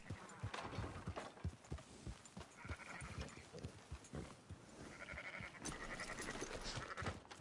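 Several sheep bleat at intervals amid shuffling hooves and rustling movement, fairly close, with no speech.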